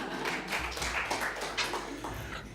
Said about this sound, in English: Can you give her a great applause?